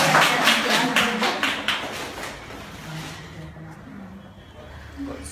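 Group clapping in a room after a school girl is handed something, a burst of rapid claps at the start that thins out and fades, with voices talking underneath.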